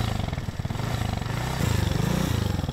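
Motorcycle engine riding through heavy Istanbul traffic, a steady close rumble with a pulsing exhaust note that holds throughout and rises slightly toward the end, with no talk over it.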